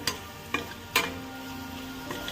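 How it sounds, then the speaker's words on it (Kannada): Okra sautés in a pan, its quiet steady sizzle punctuated by three sharp spatula scrapes and taps as the pieces are stirred. "ಕೂದು ಇಟ್ಕೊಂಡಿರೋ ಬೆಂಡೆಕಾಯಿ ಹಾಕಿ ಒಂದು ಸ್ವಲ್ಪ ಹೊತ್ತು ಬಾಡಿಸ್ಕೊಂಬಿಡ್ತಾನೆ"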